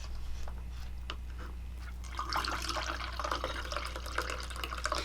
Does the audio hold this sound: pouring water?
yes